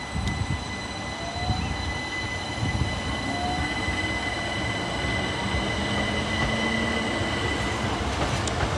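Class 37 locomotive 37582 rolls slowly into sidings at Tonbridge on the South Eastern Main Line, a steady loud rumble of engine and wheels with faint squeals and tonal whine throughout, no voices.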